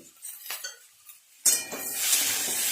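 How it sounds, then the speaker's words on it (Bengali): Metal utensils clink and scrape against a pan in a few separate strokes, followed by a louder, steady hiss of mixed vegetables cooking with continued stirring. "সমস্ত সবজিগুলো আরেকটু এইভাবে নেড়ে চেড়ে নেব"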